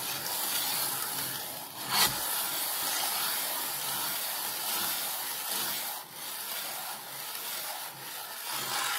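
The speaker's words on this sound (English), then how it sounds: "The muller will gradually grind the particles a little bit finer" A glass muller grinds pigment into binder for watercolour paint, a continuous gritty rubbing and scraping that stays close and steady, with brief bumps around two and six seconds, and no voices.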